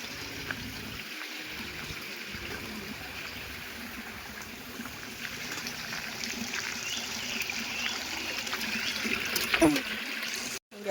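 River water rushes steadily over rocks, a broad continuous wash under outdoor walking, with a brief clatter near the end.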